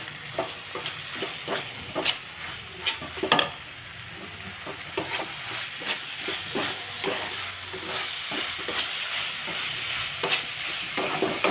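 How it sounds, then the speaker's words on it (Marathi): Spice masala with garam masala and coriander powder being stirred in a pan for methi matar, a constant sizzle with rhythmic spatula scrapes and clicks recurring throughout, no speech. "हलवून घेऊ द्या आता."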